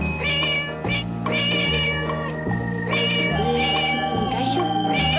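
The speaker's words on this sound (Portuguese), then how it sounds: "Quando ele escuta um gatinho." Repeated kitten meows, high and tonal, rise and fall over a steady backing of music with a pulsing beat, each cry close and clear.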